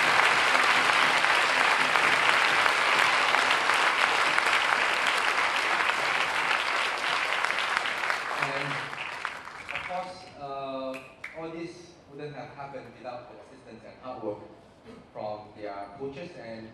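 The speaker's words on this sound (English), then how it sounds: "this orchestra, they deserve a huge round of applause" Audience at a school intermediate music festival gives a student orchestra a big round of applause, loud sustained clapping for about nine seconds that fades as a voice begins speaking over the dying claps.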